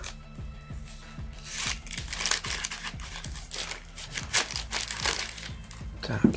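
A taped paper envelope holding coins being unpacked, with crinkling, tearing and rustling paper in irregular close bursts and faint clinks, and no talking.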